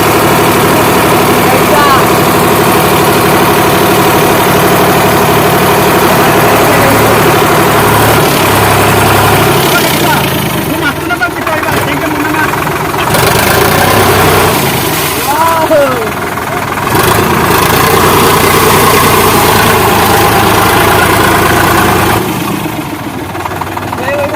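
A Sonalika DI 47 tractor runs with a rotavator in a farm field, its heavy diesel engine droning loud and close with steady vibration throughout, while people talk over it at times.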